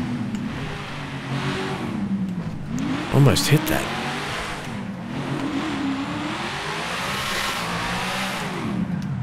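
A V8 muscle car, a Camaro SS in GTA 5, drones and revs loudly throughout with a brief sharp burst midway, engine tones rising and falling under a voice.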